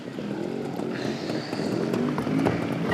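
Two-stroke dirt bike engines buzz at moderate distance, with a continuous rasp and shifting revs that grow a little louder toward the end.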